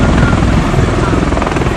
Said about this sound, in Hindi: कई भारी भरकम हेलीकॉप्टर जंगी जहाज से उड़ते और लैंड करते नजर आए